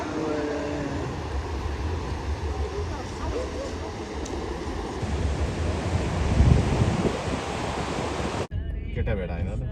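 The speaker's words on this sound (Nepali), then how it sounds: "यो चाहिँ बल छाल आइरहेछ" Strong ocean waves break and roll at Bondi Beach in Sydney, a continuous roaring surf mixed with wind buffeting the microphone, swelling louder partway through before cutting to a quieter moment near the end.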